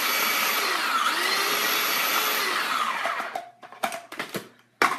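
A blender strains on pesto with toasted pine nuts, whirring loudly and evenly for about three seconds before cutting out, followed by a few sharp knocks and clatters.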